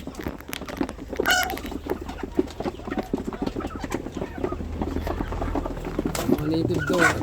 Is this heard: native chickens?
yes